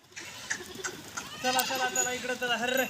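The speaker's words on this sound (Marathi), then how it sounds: "बघा शेळ्या कशा पळतात बघा खाण्यासाठी पाऊस चालू असताना" Goats bleat repeatedly, nearby and overlapping, running to feed during rain, amid scuffling movement and light dripping or splashing sounds.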